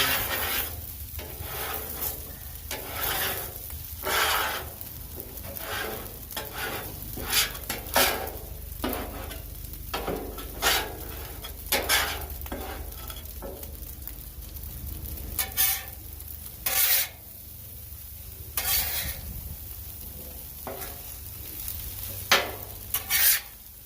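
A metal scraper works across one side of a hot Blackstone griddle, making repeated rasping scrapes and clanks over a low sizzle. The strokes come in irregular bursts, close and fairly loud, with no talking.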